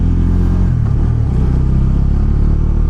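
Motorcycle engine rumbles loud and close while riding, a steady low throbbing drone with a slight shift in tone partway through and no talking.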